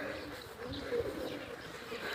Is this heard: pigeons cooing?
yes